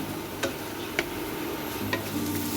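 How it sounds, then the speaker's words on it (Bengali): Masala of ground spices, coriander and chili powder, fries in oil in a pan with a steady low sizzle, punctuated by three distinct scraping clicks of a spoon stirring, close and moderately quiet. "এবার মশলাটা আমি কষে নেবো ভালো করে।"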